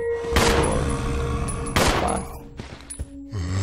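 Gunfire in Resident Evil 0 as enemies soak up bullets: two loud booming shots about a second and a half apart, then smaller pops and clicks over game music and ambience, with no one speaking.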